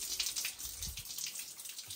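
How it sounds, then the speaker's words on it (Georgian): Water runs steadily from a newly installed tap, a close, continuous hiss and splash held for the whole two seconds, with no talking over it. "წყალი მოშვებული"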